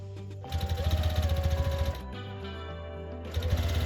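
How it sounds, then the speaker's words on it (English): A sewing machine stitches pieces of minky blanket fabric, its rapid motor chatter running steadily, pausing briefly, then starting up again, close and loud with no talking. "now I'm just doing that last piece, the top, and getting that one sewn on"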